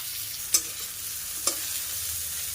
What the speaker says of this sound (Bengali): পেঁয়াজটা একটু ভাজা করে নিয়ে